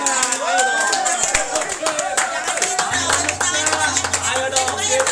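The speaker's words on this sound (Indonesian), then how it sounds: "Ayo tepuk tangan dulu tangan" A group clapping hands at a Spartan Makassar team gathering, irregular claps over loud music with voices mixed in.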